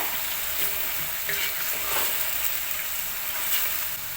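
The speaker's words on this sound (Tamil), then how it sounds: "வெங்காயத்தை சேர்த்துட்டு நல்லா பொன்னிறமாக வர வரைக்கும் இதை வதக்கி விட்டுருங்க" Onions sautéing in a large pot for chicken biryani made to serve 25, with a steady, close frying hiss and intermittent stirring scrapes.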